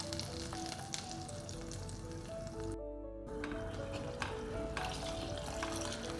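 Ground masala paste for paneer butter masala hits a hot oiled pan and sizzles steadily, a close, even frying hiss with faint stirring and a very brief dropout partway through.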